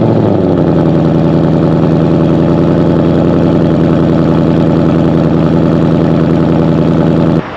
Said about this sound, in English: let's kind of get a quick sound clip to see how the factory active exhaust sounds on these.